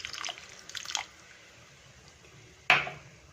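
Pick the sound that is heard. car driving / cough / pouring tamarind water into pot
pouring tamarind water into pot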